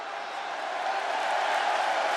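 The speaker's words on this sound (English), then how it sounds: "The crowd welcomes a woman who's battled back for moments like this." A wrestling arena crowd in the WWE 2K26 video game gives a dense, steady roar of cheering that holds at an even level and swells slightly toward the end.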